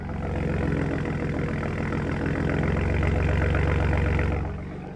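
A 2023 Ford F-150 Platinum with the 3.5-liter twin-turbo V6 and a Borla S-Type exhaust idles with a deep, steady low rumble, recorded close and alone before easing off at the end.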